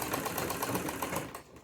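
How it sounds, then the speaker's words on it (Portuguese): Sewing machine running a short seam across a fabric corner, with a rapid even stitching rattle close up that stops abruptly near the end. "Vamos passar aqui agora na máquina, tá? Uma leve costura aqui no cantinho, para que a gente possa unir os dois lados."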